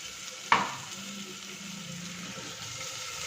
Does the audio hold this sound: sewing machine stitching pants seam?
no